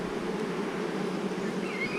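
Honey bees at a healthy hive during a swarm cell check give off a steady, close, even buzzing drone that holds at one level throughout, with a faint higher tone rising near the end.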